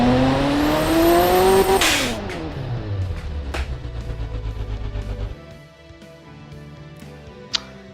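A custom turbo V8 in a video game revs hard and climbs, then drops off sharply and idles with a rough, pulsing burble before a brief sharp pop near the end.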